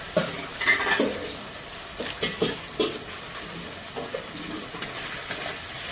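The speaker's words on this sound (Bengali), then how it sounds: "এবার মশলাটাকে ভালো করে কষতে হবে।" Turmeric, coriander powder and Kashmiri chilli powder fry in a hot pan for curry leaf chicken, a steady sizzle broken by repeated scraping strokes of a stirring spoon, close and loud.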